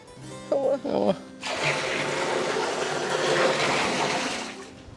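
Water pours steadily into a large pot in a village setting, a broad continuous gushing that runs for several seconds after brief talk at the start.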